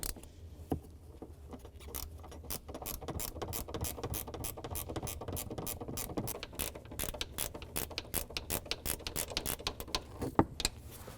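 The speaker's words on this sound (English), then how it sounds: "then I'll get my ratchet wrench" Ratchet wrench loosening a rear strut bolt on a 2005-2009 Subaru Outback, a steady run of quick close clicks that speeds up and grows more distinct toward the end, with no talking.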